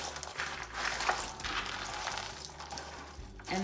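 Chex Mix is spread onto baking pans, with rustling, scraping and crunching close by in an irregular rhythm and no talk over it.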